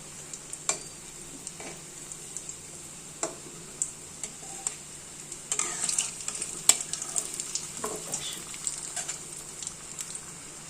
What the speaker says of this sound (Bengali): এবার এগুলো ভাজতে হবে